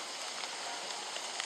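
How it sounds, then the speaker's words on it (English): Rain falls in the video game Don't Starve, a steady soft hiss of dense pattering drops, faint and continuous. "Oh no, it's raining. Are you serious?"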